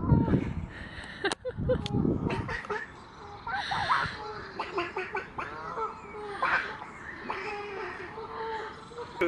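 Harsh duck calls and quacks mixed with people chatting nearby, outdoors, the bird sounds close and intermittent under the voices.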